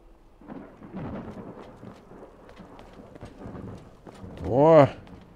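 Thunder rumbles and rain falls in the video game Skyrim, with a soft patter under a low, building roll that swells to a loud close crack near the end; someone talks over it.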